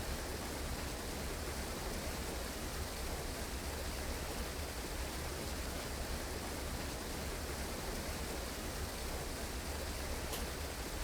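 Waterfall ambience of the Cascade room in an online Cluedo game, an even, unbroken wash of rushing water that stays constant and close throughout.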